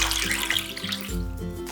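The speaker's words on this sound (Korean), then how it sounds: "냄비에 물을 부어주세요." Water pours from a tap into a cooking pot for anchovy and kelp broth, a short splashing, gurgling stream whose tone shifts as the pot fills.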